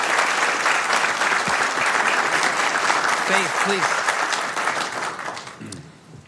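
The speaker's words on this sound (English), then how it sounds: "let's give a big round of applause to the retirement of" A city council chamber audience claps steadily through a sustained round of applause honoring a retirement, with a voice speaking briefly over it before the clapping tapers off.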